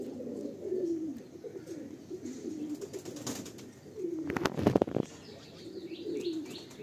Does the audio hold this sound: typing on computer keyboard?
no